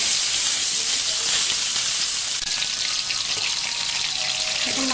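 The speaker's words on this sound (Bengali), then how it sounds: "এখন মাছ ভাজা হয়ে গেছে" Coral fish frying in a pan, a steady loud sizzling hiss throughout, with a faint clink partway through and no voices.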